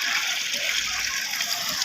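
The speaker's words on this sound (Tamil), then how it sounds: "தொட்டிலேருந்து அப்படியே தண்ணி பாருங்களேன், இங்கேருந்து அப்படியே வருது பாருங்கள்." Water pours steadily out of a tank and runs off along a channel, a continuous broadband splashing rush that stays close and fairly loud throughout, with no speech over it.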